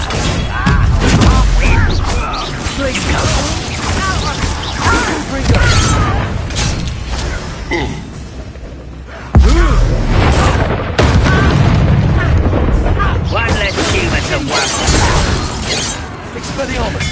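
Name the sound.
Confringo spell explosions in the Hogwarts Legacy video game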